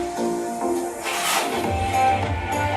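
A dolphin at a Florida Gulf Coast show gives a single quick, sharp exhalation through its blowhole, a brief breathy burst midway over a steady background of tones and venue noise.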